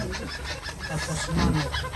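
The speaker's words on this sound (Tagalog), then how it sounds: "Manok." Chickens clucking close by in short, repeated bursts, with no talking.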